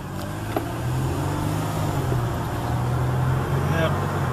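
Road traffic rumbles steadily as cars go by while a driver waits to pull out, with a low continuous engine drone and some muffled talk in the background.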